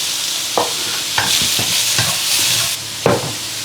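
Beef and mushrooms stir-frying in a wok: a loud, continuous sizzle broken by repeated clattering stirs at close range, with no one speaking.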